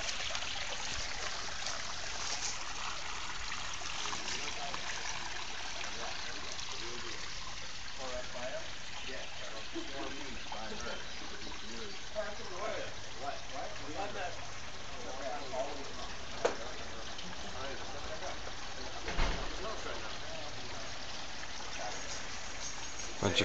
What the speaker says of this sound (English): Look at that pond going.